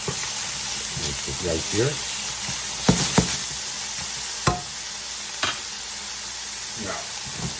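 A yellow pepper sizzles in a frying pan with a steady close hiss, broken by several sharp utensil clacks and scrapes, while a person talks briefly over it.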